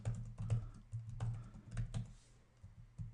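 Someone types on a computer keyboard while configuring network switches, making soft, close keystrokes in irregular bursts and short pauses, with nobody speaking.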